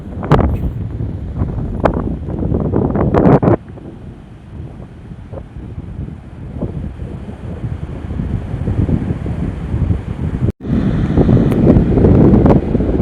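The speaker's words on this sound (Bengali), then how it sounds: "এই হচ্ছে সমুদ্র" Sea waves roll in and wind buffets the microphone on an empty beach lined with casuarina trees at Baguran Jalpai, a loud continuous roar with surging swells and one brief dropout.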